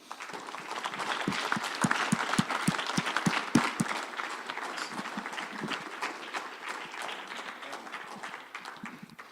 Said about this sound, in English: So please join me in giving Daniel a round of applause